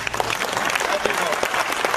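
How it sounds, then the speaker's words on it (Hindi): Loud applause from an audience at a Hindi-language entrepreneurship talk, dense steady clapping throughout with some voices mixed in. "इसको अच्छा जोर से ताली मारो प्लीज"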